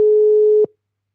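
A single loud, steady telephone tone from a call being placed back during a radio talk show, held for just over half a second and then cut off abruptly into silence.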